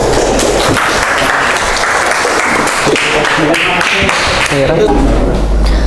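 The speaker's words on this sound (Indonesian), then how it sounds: "terima kasih, tepuk tangan" A crowd applauds with steady clapping throughout, loud and close, while voices talk underneath.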